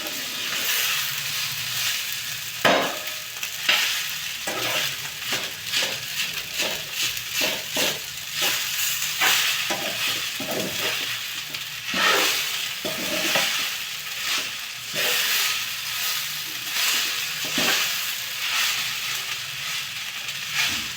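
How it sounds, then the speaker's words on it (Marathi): A spoon presses and breaks up lumps in rice as it cooks in a pan, with repeated scraping, pressing strokes over a constant sizzling fry, close and busy throughout with no speech. "जे गोळे वगैरे असले भातात तर ते आपल्याला असे असे चमच्याच्या दाबाने फोडून टाकता येतात"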